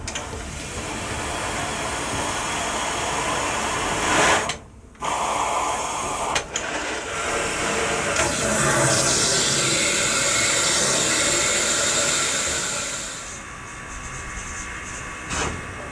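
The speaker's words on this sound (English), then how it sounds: "A rushing sound and an overflow pipe falling dry are signs that the injector works properly." A steam locomotive's boiler injector gives a loud, steady rushing hiss, broken by a brief dropout partway through before the flow resumes and then softens slightly near the end.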